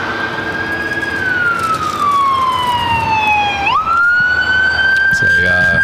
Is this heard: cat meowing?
no